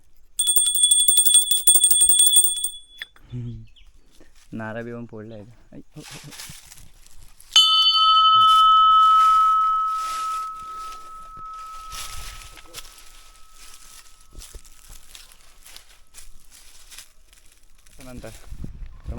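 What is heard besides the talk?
temple bell ringing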